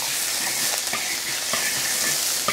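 Lard sizzles steadily in a hot pan, a continuous bright frying hiss with a few louder crackles and pops scattered through it, close up and without any talking.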